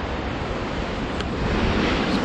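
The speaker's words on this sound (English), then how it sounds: "There's the ocean." Ocean surf breaks in a continuous, dense wash of rushing water on a cloudy morning, with wind buffeting the microphone throughout.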